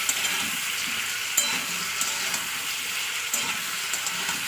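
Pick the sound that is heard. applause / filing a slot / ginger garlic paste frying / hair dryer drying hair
ginger garlic paste frying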